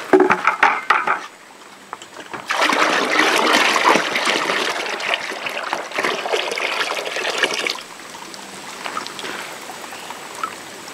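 Water pours into a plastic jug for a garden sprayer, filling it up for mixing seed or fertilizer at a new food plot; a steady rushing stream runs for several seconds, close and fairly loud, then tapers off.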